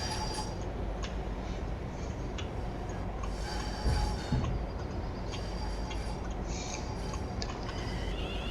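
A train runs into London Euston station, a steady broadband rumble of wheels and motion that carries through the whole stretch with a brief louder thump partway.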